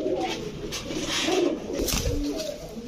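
Budapest, Teddy and Kamargar breed pigeons coo repeatedly in low, throaty rolls, close by, with a steady background hum throughout.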